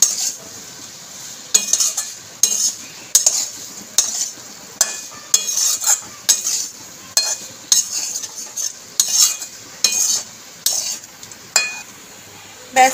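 French fries being tossed and stirred with chaat masala, a rhythmic series of close metal-on-pan scrapes and clinks at about one stroke per second, over a faint sizzle.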